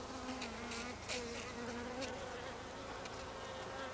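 A steady, dense insect buzz from many honeybees at a hive entrance, fairly close and continuous, with a faint droning hum throughout and no voices.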